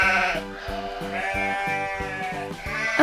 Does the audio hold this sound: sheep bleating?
yes